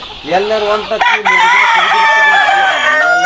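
A Fayoumi rooster at a poultry farm lets out a loud, close, drawn-out crow, with hens clucking around it.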